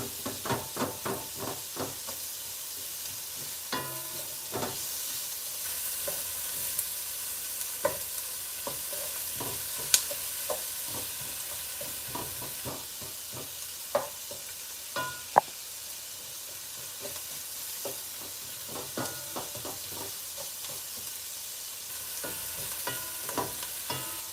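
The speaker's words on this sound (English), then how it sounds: "We're just gonna let this onion saute a little bit so it could get like a little brown." Onion sautéing in a pan, browning slowly: a steady, soft sizzle runs throughout, broken by scattered clicks and scrapes of stirring, with no talk.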